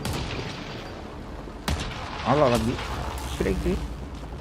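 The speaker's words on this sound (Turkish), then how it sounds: "patlama sesleri duyuyorum ama" Game explosions from Mass Effect Andromeda: a sudden muffled boom followed by rumbling blasts, mostly under someone talking over the gameplay.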